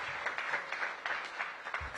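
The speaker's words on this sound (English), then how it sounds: "Give them another big round of applause." A crowd applauds the Eastern Senior High School marching band at a public ceremony, a steady wash of many hands clapping that stays even and fairly close for the whole stretch.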